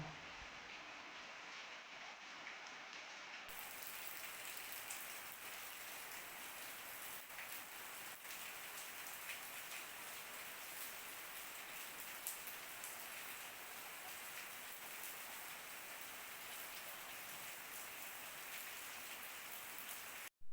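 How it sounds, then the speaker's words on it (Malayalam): Morning rain in a village home: a steady, soft hiss of rain on surfaces, even and unbroken throughout, with no talking. "രാവിലെ തന്നെ നല്ല മഴയാണ് കേട്ടോ."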